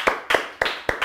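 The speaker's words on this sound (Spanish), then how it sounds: "un aplauso para Farmasurma" Applause for a sponsor on a studio talk show, heard as four slow, separate hand claps, close and distinct, evenly spaced about a third of a second apart.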